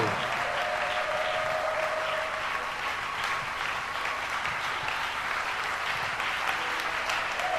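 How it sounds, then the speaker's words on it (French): A church congregation clapping loudly, dense sustained applause from a large crowd filling the whole stretch without a break. "Can you give a mighty clap offering to the Lord?"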